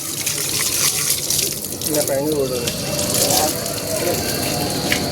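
Water runs from a tap as hands are washed, a steady close splashing stream while voices talk over it during a family outing on Mahanavami.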